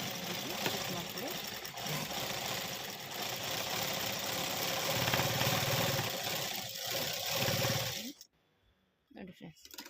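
A sewing machine runs steadily, stitching a second seam beneath lace to stiffen it, a continuous mechanical whir for about eight seconds before stopping, followed by a few faint handling sounds.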